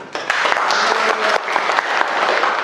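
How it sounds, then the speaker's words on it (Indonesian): Classroom of students clapping together during an augmented-reality chemistry snakes-and-ladders lesson, a dense, steady burst of hand claps lasting a couple of seconds, fairly close and loud. "Pintar buat kalian semua, tepuk tangan"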